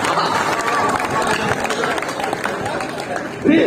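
Audience applause and crowd noise at a Hindi poetry recital (kavi sammelan) in Nimbahera, a dense, steady wash of clapping and cheering from a crowd, with a louder burst near the end.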